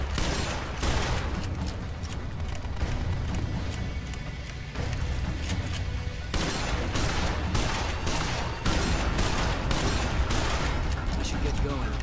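Heavy shotgun and weapon fire in Terminator Salvation on Xbox 360, a dense continuous barrage of booming shots with rumbling low end, loud and sustained under occasional talk.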